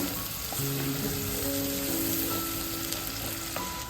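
Steady frying sizzle of onions in a pan with occasional scraping and stirring, continuous and close, no voices.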